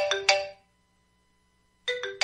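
A phone ringtone for an incoming call plays two bright chiming tones, falls silent for over a second, then repeats the same pattern, loud and close with no talking over it.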